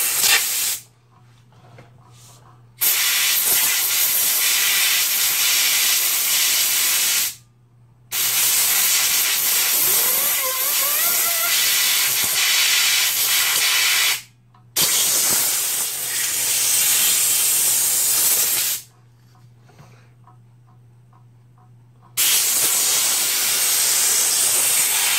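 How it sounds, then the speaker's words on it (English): Compressed air blasts gunk out of a chainsaw bar in several loud, close hissing bursts of a few seconds each, separated by short pauses with a low background hum. "but I'll blow the gunk out of the bar first."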